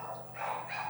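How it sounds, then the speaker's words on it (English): Several dogs in a house bark indoors, a faint, muffled yapping held under a steady background hum and lasting the whole moment. "I'm sorry about the incessant dog noise right now."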